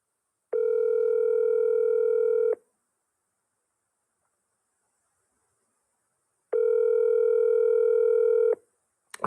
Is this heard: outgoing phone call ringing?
yes